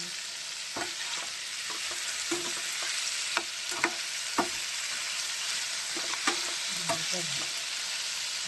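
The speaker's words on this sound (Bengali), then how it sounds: "লঙ্কা দিয়ে ঝিরি ঝিরি করে বড়ি ভাজা" Bori fry with dried red chili in a pan: a constant close hiss and crackle of oil, punctuated by spatula scrapes and clinks as the pieces are stirred.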